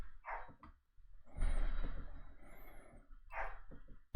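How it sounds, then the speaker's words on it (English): A pet dog barks somewhere in the background of a home, giving two short, faint, distant barks spaced a few seconds apart over low room noise. "I hear my dog barking in the background"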